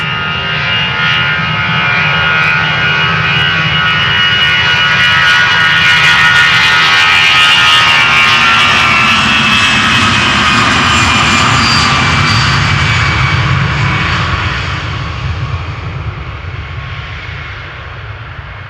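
A 26-year-old Lufthansa Airbus A319 jet takes off from the Polderbaan at Amsterdam Schiphol, its engine roar swelling loud and steady with a rising whine, then fading slightly toward the end.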